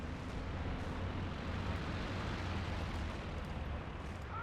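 Air strike explosions in Company of Heroes 2 during a 4v4 match: a dense, steady, rumbling roar of blasts and bursts at constant loudness, with no distinct individual hits standing out.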